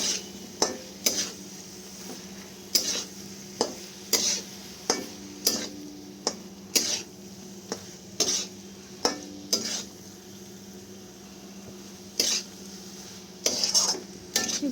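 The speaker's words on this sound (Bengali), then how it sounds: "এরপর আমি এখানে মাশরুমগুলো অ্যাড করে দেবো। তারপর মশলার সাথে ভালো করে এগুলো মিক্স করে নেব" Mushrooms are stirred into masala spices in a pan, sharp spoon-against-pan scrapes and clinks repeating every second or so over a faint sizzle and low hum, close and clear without any talking.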